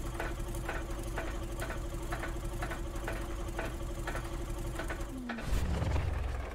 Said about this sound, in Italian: quello succede quando il motore è ingolfato, c'è troppo carburante e poca aria